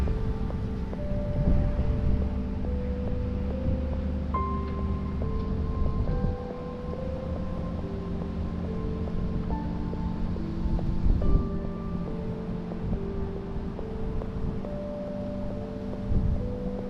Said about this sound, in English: this wind is bad